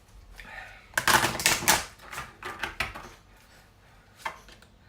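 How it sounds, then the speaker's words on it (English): Oracle cards are shuffled and drawn from a deck. Quick papery riffles and taps come in bursts, loudest in the first couple of seconds, then scattered softer flicks. "I'm going to pull a couple of Doreen Virtue Romance Angel Oracle cards"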